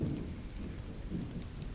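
Steady rain pours and thunder rumbles low in a storm outside a castle, a dense continuous wash with deeper swells, no voices.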